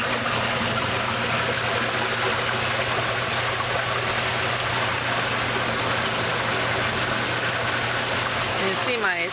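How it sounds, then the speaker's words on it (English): A sump pump pushes water out through a hose running out the wall, giving a steady, even hum and rush of flowing water that holds constant throughout, with no speech over it. "my sump pump keeps up pretty good with that amount of flow"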